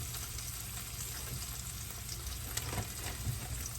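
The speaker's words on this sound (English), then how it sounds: "while these steaks are browning" Steaks browning in avocado oil in a pan, giving a steady, continuous sizzle and crackle with small pops, close and even throughout with no talking.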